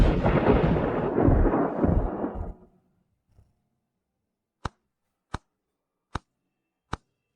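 Loud thunder rumbles outside a palace, a long heavy roll that fades out after a few seconds, followed by silence broken by four sharp, evenly spaced ticks.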